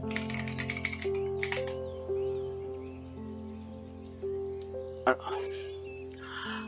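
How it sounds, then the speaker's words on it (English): A computer keyboard is tapped in a quick burst of light clicks, followed by a few scattered keystrokes over a faint steady hum, with a soft voice in the background. "here I'm going to type my password"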